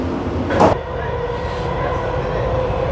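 A Dubai Metro train runs with a steady, loud rolling rumble and faint rail hum, heard from on board with a brief swell of noise early on.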